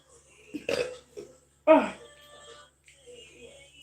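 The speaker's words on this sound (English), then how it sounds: "Excuse me for burping." A loud, low burp bursts out once, with a couple of smaller throaty sounds before it and soft murmuring afterward.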